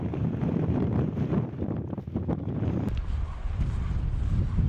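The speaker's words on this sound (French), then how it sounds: "Sauf que là il y a du vent." Strong wind buffeting the microphone with a continuous roaring rumble, shifting in intensity, outdoors in Iceland beside a motorcycle, with no one speaking.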